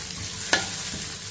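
Onion and diced medium carrot being stirred and sautéed in a pan, a soft steady sizzle with one sharp scrape of a spoon or spatula midway, close and without talk.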